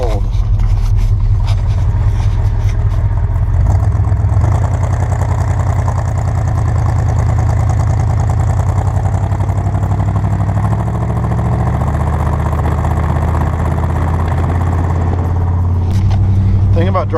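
A 1975 Jeep Cherokee Chief drives on a cold road at high elevation, its engine a loud, steady, close-up drone that holds evenly throughout with small shifts in pitch.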